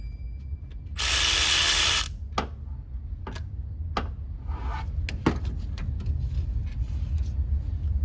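A ratchet drives out a bolt on a 2014 Toyota Camry during water pump replacement: a single loud, close one-second burst of rapid clicking, followed by sparse metallic taps and knocks over a low background rumble.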